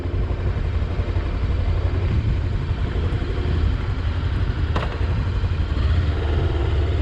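A 2021 Daytona Maverick 500 motorcycle riding off on the road, its engine a steady low drone under constant wind rush, with one brief sharp click partway through.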